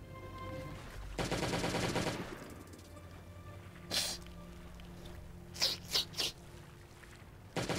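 AK rifle with plus 25 damage firing in the video game Last Day on Earth: a rapid automatic burst lasting about a second, then a lone shot and a tight cluster of three close, loud reports.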